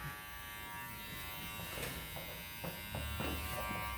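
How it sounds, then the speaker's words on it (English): Electric hair clippers buzz steadily while shaving hair from the top of a bob cut, a continuous close motor hum with slight shifts in tone as the blade moves through the hair. "just shave with my clippers open"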